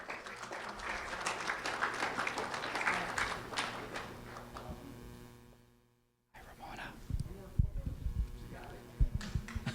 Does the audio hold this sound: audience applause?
yes